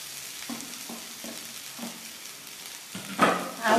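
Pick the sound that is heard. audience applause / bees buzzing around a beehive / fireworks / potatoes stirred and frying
potatoes stirred and frying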